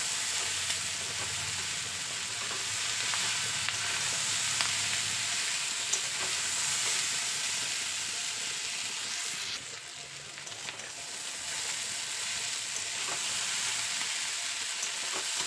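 Pointed gourd and potato pieces stir-frying in fish oil, giving a steady, close sizzle with scraping stir sounds throughout and a brief dip in intensity partway through.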